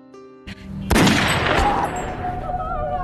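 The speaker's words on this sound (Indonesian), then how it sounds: "ibu itu malah tega menembak Polo" A gunshot in a film scene where a person is shot, heard as a sudden loud blast after a few quieter knocks, followed by a sustained noisy rumble and ringing.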